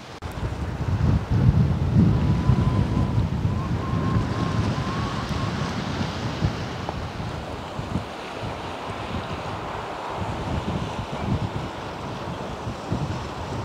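Arctic Ocean waves wash against a rocky shore in a steady roar, with gusting wind buffeting the microphone and loud, continuous surf and no talking.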